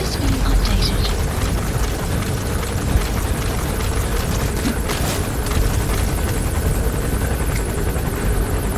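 Support helicopter in Metal Gear Solid V, a continuous loud rotor whir and engine wash that stays steady throughout without breaks.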